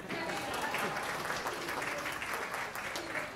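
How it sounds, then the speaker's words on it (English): Audience applause at the 2018 Yash Chopra Memorial Award ceremony honouring Asha Bhosle, a dense, steady wash of many hands clapping that holds for the whole stretch. "A big round of applause for him."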